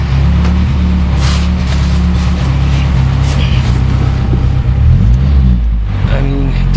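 A 1994 white Ford Ranger idling loud and close after a cold start in an abandoned barn, a steady low engine rumble with a slight wavering throb, no talk over it.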